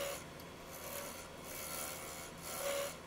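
A bowl gouge hollows a wooden bowl on a lathe, making a soft, continuous rasping scrape that swells and fades in gentle passes at a fairly low level.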